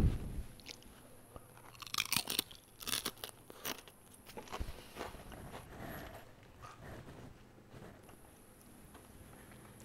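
Crunchy fried sage leaves in batter being bitten and chewed close up, sharp crackling crunches in bursts that settle into softer chewing.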